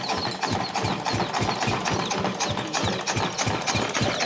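A diesel engine lacking power from a leak runs steadily during tuning, a loud, continuous mechanical clatter with a rapid, even knocking rhythm close by, no talking.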